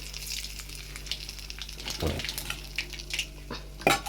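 Nigella seeds crackle and sizzle in hot oil, with sharp pops and a stirring scrape against the pan, fairly close.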